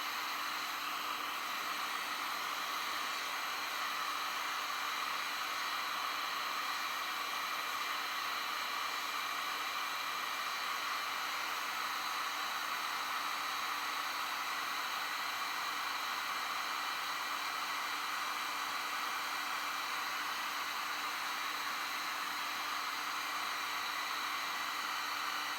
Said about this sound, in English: with a heat gun, you know, you get it hot